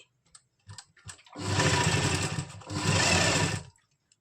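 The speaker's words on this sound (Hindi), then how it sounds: "½ इंच पे सिलाई लगा देंगे।" A sewing machine stitches plates into an Afghani salwar in two sustained runs of about a second each, preceded by a few light clicks, recorded up close with no talking.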